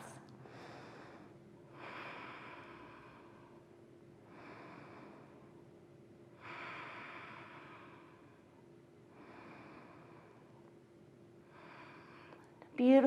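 Slow, steady breaths during a held yoga pose, six soft rushes of air in and out spaced a couple of seconds apart over a faint steady hum, with a louder noise at the very end.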